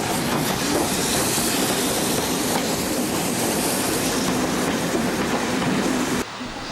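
Double-headed Black 5 and 4F steam locomotives hauling a freight train on the East Lancashire Railway at Bury, a loud continuous rumbling roar passing close by that drops off sharply at the end.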